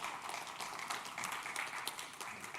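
Audience applause at a digital business conference in Warsaw, a steady wash of many hands clapping that holds at an even level throughout without pause.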